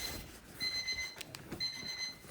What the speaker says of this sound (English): I'm going to cancel that timer